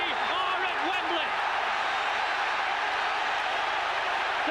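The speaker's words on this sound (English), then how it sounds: "The crowd pour onto the field" A football crowd at Wembley pouring onto the pitch after a playoff match, heard as a steady, loud roar of cheering and applause that holds at a constant level throughout.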